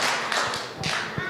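A few sharp hand claps ring out from people doing a circle dance at a farewell gathering for a reverend, spaced unevenly over a soft background.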